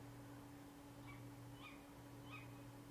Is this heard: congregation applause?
no